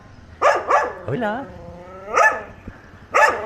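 Dogs bark repeatedly at a skateboarder, sharp close barks coming in short bursts with gaps between them, while someone speaks in between.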